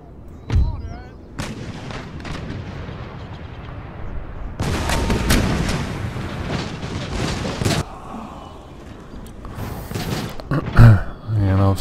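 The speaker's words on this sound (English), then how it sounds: "attract the cannon fire from the battlements" Cannon fire booms from the battlements during a siege of Tbilisi in Empire Total War, heavy distant blasts and crackling volleys rolling over a dense battle din, with a voice talking over it.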